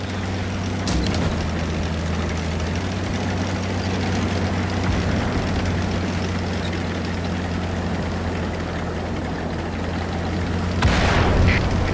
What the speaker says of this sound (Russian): Внимание, работает вражеская артиллерия.